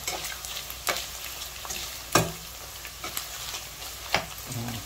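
Tocino frying in a pan, a steady crackling sizzle with several sharper pops and stirring scrapes standing out at irregular intervals, close and moderately loud, with no talking.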